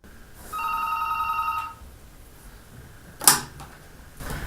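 A telephone rings at a crisis helpline office, one bright electric bell burst lasting about a second, followed by a sharp click as the handset is lifted, in a quiet room.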